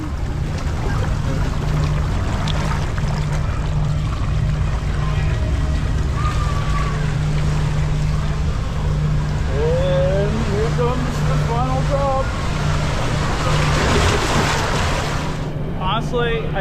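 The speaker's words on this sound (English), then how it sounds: "This is the Aqualab's double looping water slide where you twist in one direction and then the other over a distance of nearly 250 feet." Rider on the Twist and Spout double-looping water slide aboard the Disney Magic cruise ship, nearly 250 feet long, rushing down: a loud, continuous roar of water and wind noise fills the whole ride with no letup.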